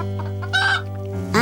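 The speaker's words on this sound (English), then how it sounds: "That's our neighbor, a rooster." A neighbouring farm rooster lets out short clucks, with one brief burst midway and another at the end, over a steady tonal hum.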